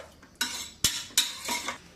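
A spoon scraping and clinking against a pot as pulao is stirred, three distinct bursts of metallic scraping close up, with no talk.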